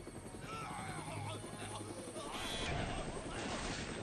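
A helicopter in the video game Dead Rising gives a dense, constant rotor and engine roar over four seconds, with clattering game effects mixed in.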